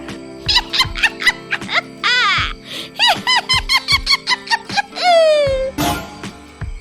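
A witch's cackling laughter rings out at night as a shopkeeper closes his grain shop: a loud, shrill run of rising and falling squealing laugh bursts, close and rhythmic, with no talking.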